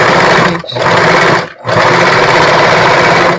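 A sewing machine runs loud and close while stitching a bra, a steady rapid whir that stops briefly twice before resuming.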